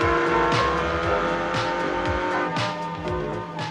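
A car races at high speed, at about 140, with a loud, steady engine roar and tire noise filling the whole stretch, heard close and alone without talk.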